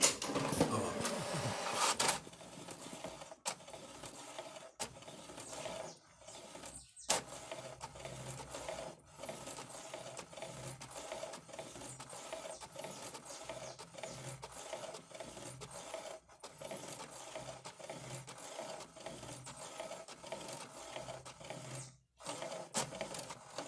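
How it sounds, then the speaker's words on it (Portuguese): An HP DeskJet Ink Advantage 2136 printer runs a test page, giving a steady mechanical whir with rhythmic sliding and clicking of the print head, broken by brief pauses, close and moderately loud. "Vamos fazer a impressão de teste, né?"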